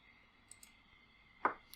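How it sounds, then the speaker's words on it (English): The button on a USB security key being pressed, a single small close click after a couple of faint ticks, in a quiet room. "I'm just going to press the button on this."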